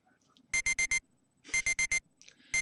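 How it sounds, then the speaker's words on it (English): A digital wristwatch alarm in the visual novel Never7 goes off in quick bursts of four sharp electronic beeps, repeated in two clear groups with a third burst starting at the end, loud and close in a quiet room. "The silence is pierced by a sudden sound of my watch alarm going off."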